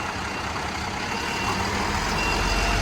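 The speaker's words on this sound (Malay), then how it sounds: "Nak kena reverse balik." An Alam Flora garbage truck backs up with its engine rumbling steadily and growing slightly louder, reversing alarm blended into the continuous wash of traffic-like noise.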